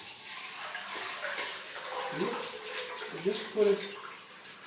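A cold herbal infusion of leaves and herbs pours and drains through a colander with a soft, close splashing trickle while someone speaks quietly.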